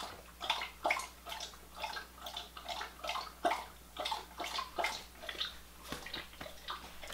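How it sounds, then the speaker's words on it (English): A pet dog named Riley laps water from a bowl, quick wet slurps in a steady rhythm with small splashes, close and fairly quiet for several seconds. "My dog is drinking his water."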